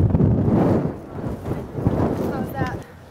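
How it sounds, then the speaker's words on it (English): Strong wind buffets the microphone outdoors during a cross-country running workout, a loud continuous low rumble with gusty swells, fading slightly near the end. "it's pretty windy out today"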